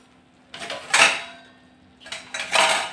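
A metal spoon stirs spices such as dry ginger powder in a bowl for a tamarind chutney, giving two bursts of clinking and scraping against the bowl, close and fairly loud, with no talking.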